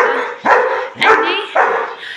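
Dogs at a dog school bark loudly and close by, three sharp barks spaced about half a second apart, with a short yip mixed in.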